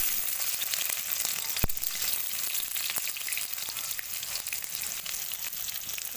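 Chopped onions fry in white oil in a wok, a steady bright sizzle that hisses evenly throughout, with one sharp tap partway through.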